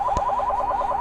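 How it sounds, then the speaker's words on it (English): A shrill electronic building alarm at a state park museum rings continuously with a fast warbling pulse, steady and moderately loud, with no voices over it. "since we walked away, that annoying alarm has been going on."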